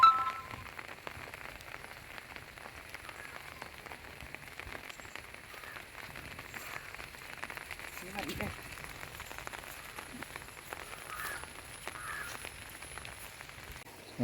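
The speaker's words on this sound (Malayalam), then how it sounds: "മഴ പെയ്യുന്നുണ്ട്." Rain falling beside a railway track during monsoon flooding, a soft continuous patter of drops with scattered taps, steady and moderately faint throughout.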